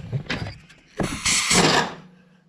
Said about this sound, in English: I like just spin the bolt a little bit, that way it comes out.